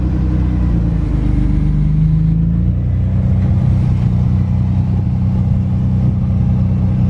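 Rear-mounted engine of a Renault Clio V6 rumbling loudly at close range, with one brief rev before settling into a steady, deep idle.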